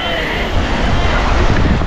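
Surf breaking on a beach in Sorsogon, Bicol, just after a sudden rain shower, a steady loud wash of waves mixed with gusty wind buffeting the microphone close by.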